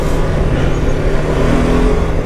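BMW F 450 GS motorcycle ridden off-road, its engine droning loud and close with a rough, steady note and no voices.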